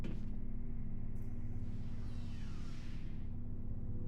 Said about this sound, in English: Elevator.